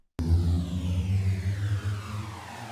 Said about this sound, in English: It's a riser